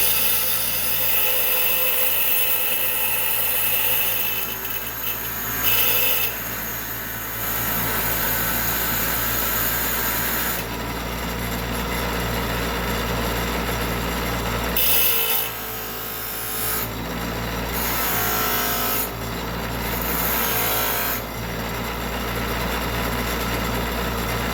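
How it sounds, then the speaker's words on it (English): Tungsten rod for TIG welding being sharpened on a grinder, a steady abrasive rasp over a motor hum that starts and stops in several passes, loud and close with no talk. "you sharpen your tungsten rod so that you get a cleaner weld."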